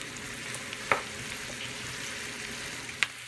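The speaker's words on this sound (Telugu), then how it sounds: "ఆనియన్స్ని వేగనిద్దాము. లైట్ గోల్డెన్ బ్రౌన్ కలర్ వచ్చే వరకు ఆనియన్స్ వేగనివ్వాలి." Onions frying in oil for mattar paneer give a faint, steady hiss, broken by two sharp utensil clicks near the start and the end.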